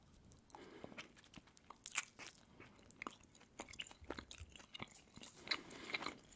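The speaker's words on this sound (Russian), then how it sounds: "Такие жевательные мармеладки." Chewy gummy candies are eaten up close, with soft crunchy bites and wet chewing sounds that repeat irregularly at low volume, with no talking.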